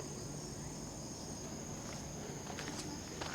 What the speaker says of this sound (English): you can still hear in the distance some, and there are crickets and grasshoppers